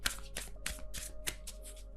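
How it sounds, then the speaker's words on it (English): Tarot cards are riffle-shuffled in a quick series of about seven rustling bursts. The sound is soft and close-up, with no talking. "You're telling me to shuffle, so hang on."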